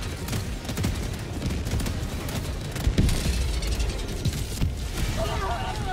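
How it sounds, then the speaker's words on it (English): Autocannon fire in the video game Helldivers 2, a dense rolling barrage of booms and bursts with one louder blast near the middle, set against continuous battle noise. "Dude, those auto cannons."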